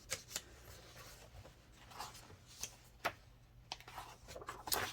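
Scissors cut out pieces of old paper for a mixed media art page, making quiet, close snips and rustles in an irregular rhythm, faint overall.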